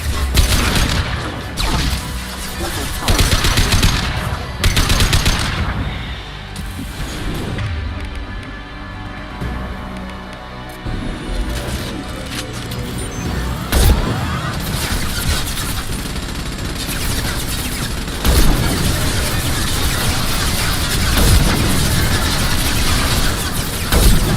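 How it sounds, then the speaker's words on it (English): Mass Effect 2 combat gunfire rattles in a sustained, dense barrage mixed with crashes and booms, loud and continuous with brief lulls. "Taking fire!"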